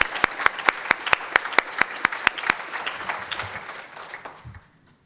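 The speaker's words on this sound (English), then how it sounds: "That deserves a round of applause." Audience applause for an award honoree at a UN Women Gulf Coast Chapter event, starting with sharp, evenly spaced claps that thin out and fade to silence over about five seconds.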